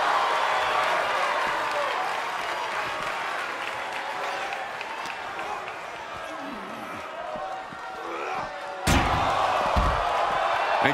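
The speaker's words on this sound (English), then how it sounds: "Kick to the gut. Cranked around into a neck breaker." A neckbreaker slam in a televised wrestling ring match lands with a sharp, loud impact near the end, amid steady commentary and a roaring arena crowd that swells afterward.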